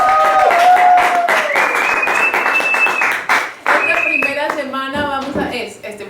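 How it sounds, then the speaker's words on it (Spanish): A small audience applauds at a storytelling show, the clapping running beneath a voice and tonal sounds that ride over it for most of the stretch. "Un aplauso."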